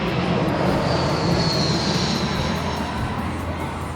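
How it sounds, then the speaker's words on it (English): Airplanes pass overhead near a large, busy airport in Cuenca, Ecuador, a steady loud roar of jet engine noise that holds for several seconds with a faint whine above it. "you're enjoying these loud planes"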